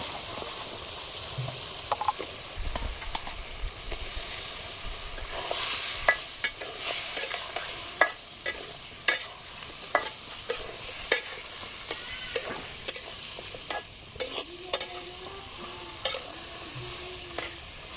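Vegetables stir-fried in a cooked-down spice masala, a soft sizzle under frequent sharp clinks and scrapes of a spoon against the pan, close and irregular.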